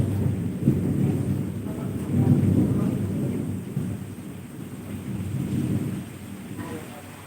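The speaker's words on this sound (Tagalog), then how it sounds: "Ang lakas ng kulog." Heavy thunder rumbles loudly and continuously through a rainy-day downpour, with steady rain noise underneath.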